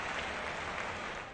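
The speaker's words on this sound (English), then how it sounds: "a huge cheer goes up from the Fenway faithful" Crowd at Fenway Park in the baseball video game OOTP19 roaring in a broad, steady wash of cheering and clapping, moderately loud and sustained without talk.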